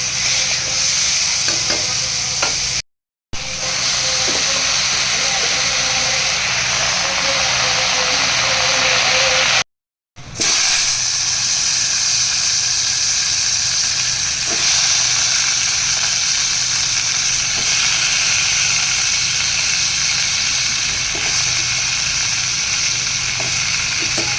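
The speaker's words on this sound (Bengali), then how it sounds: "শুকনো লঙ্কা আর সর্ষে ফোড়ন দিয়ে দিলাম" Dried chillies and mustard seeds crackle and sizzle as a tempering in hot oil, a steady close frying hiss broken by two brief dropouts, with no talk.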